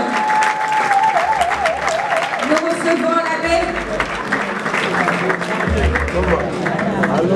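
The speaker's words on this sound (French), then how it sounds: "Est-ce qu'on peut l'applaudir très fort, mesdames et messieurs?" Audience at a Pool Malebo awards ceremony for best diaspora and Kinshasa artists, applauding with steady, dense clapping throughout, while a host speaks over a loud hall with music beneath.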